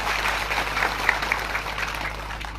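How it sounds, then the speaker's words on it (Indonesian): Applause from the audience at an Indonesian political campaign rally for a regent election, a dense, steady wash of many hands clapping that holds evenly throughout with no speech over it. "Sekali lagi kita berikan tepuk tangan yang sangat meriah."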